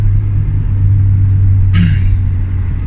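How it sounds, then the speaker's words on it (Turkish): A car engine at full throttle in third gear, a steady loud low drone that holds near and constant throughout, with a brief higher whine near the end. "Vites 3'te bakın şu an. Dip gaz yapacağım."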